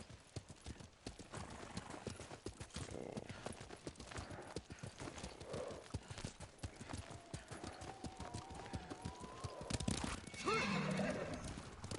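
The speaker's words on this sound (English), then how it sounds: "Oh, this horse is so ugly." Horse hooves clip-clop steadily across the ground in the samurai game Ghost of Tsushima, fairly close, with a drawn-out neigh near the end and faint speech at times underneath.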